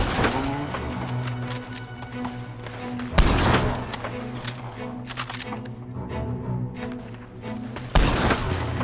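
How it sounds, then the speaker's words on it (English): Gunfire rings out in Red Dead Redemption 2: a run of loud, sharp shots with reverberant tails, two especially heavy blasts standing out, over a continuous rumbling game background. "Shooting."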